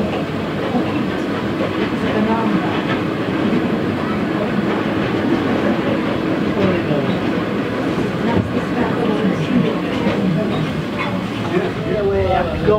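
A train runs along the Statfold Barn Railway during a road and rail festival, its loud steady rumble and rhythmic wheel clatter continuing throughout, with people talking nearby over the noise.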